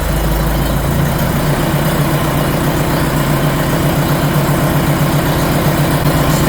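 The engine of a Pilgrim Sumo AC Cobra replica idles steadily on its own, a loud, close, continuous low rumble with a constant vibrating throb.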